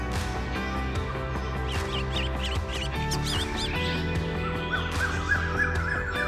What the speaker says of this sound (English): The jungle, common and pied mynas were chirping and croaking around.